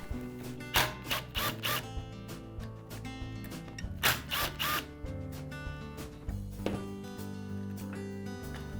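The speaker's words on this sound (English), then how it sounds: "I'll go ahead and remove the screws." A cordless power driver whirs in short repeated bursts while backing screws out of a carburetor base, close and fairly loud, with mechanical clicks and handling sounds between the bursts.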